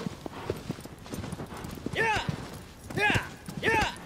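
Horse hooves clip-clop in Shadow of the Colossus, a rhythmic trotting patter of hoof strikes under excited talking, with a few whooshing sweeps cutting through.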